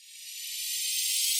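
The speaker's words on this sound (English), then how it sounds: "a short riser" A short riser effect from a melodic dubstep build-up: a bright, buzzy, shimmering noise tone swelling gradually louder for about a second and a half, heard alone and close.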